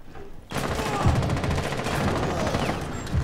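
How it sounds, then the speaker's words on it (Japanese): Fuze's cluster charge going off in Rainbow Six Siege: a sudden onset of rapid, overlapping detonations that rattle on continuously for several seconds, loud and close. "フューズの爆弾なんだ、これ。"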